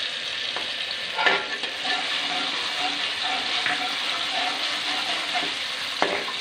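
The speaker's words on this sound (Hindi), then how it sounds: "इसे हम थोड़ा सा फ्राई कर लेंगे।" Garlic and ginger paste frying in hot oil for chicken tikka, a steady bright sizzle running throughout with a few soft stirring knocks, close and moderately loud with no talk.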